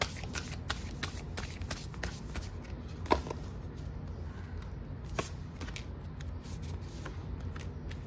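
Tarot cards shuffled and drawn by hand during a reading, a soft, steady riffling and sliding with occasional sharper snaps of cards being pulled, close and fairly quiet, with no talking.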